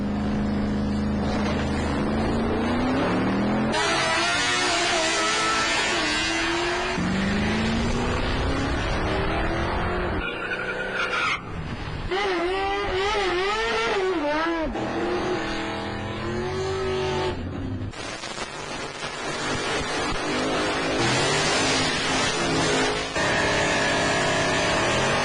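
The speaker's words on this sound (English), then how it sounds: "all the rip-roar and engine-revving burnout action" Drag racing cars at an airport strip event revving hard and doing burnouts, with loud engine roars that rise and fall in repeated sweeping pitch runs, some near and very loud, continuing for the whole stretch.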